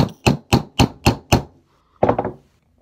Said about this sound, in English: I've got my rivet setter on top of the rivet, and I'm going to give it a few whacks